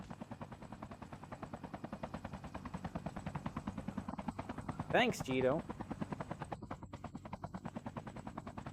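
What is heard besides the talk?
helicopter in a video game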